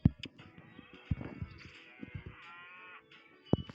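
A cartoon cow moos in the farm video game Hay Day, one drawn-out, clear call framed by short sharp game effects and thumps, loud and close with no talk over it.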